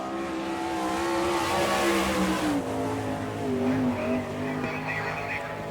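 An All Star Circuit sprint race car runs at the Gibsonton, Florida Winternationals, its engine a steady, loud harmonic drone that rises and falls in pitch with the throttle as it laps. An announcer's voice carries over it.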